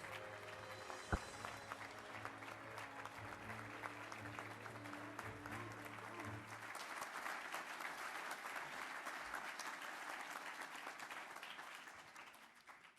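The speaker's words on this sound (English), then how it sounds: "let's give a big round of applause" Sustained audience applause at a 2012 military honors award ceremony for the Raymond G. Davis Award, a dense steady wash of clapping over music that fades out near the end.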